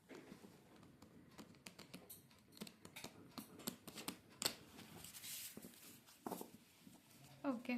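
A brand-new, stiff, thin Witch's Familiar runic oracle card deck being handled and shuffled: quiet, close, irregular clicks, taps and card flicks at low level, with faint voice sounds now and then.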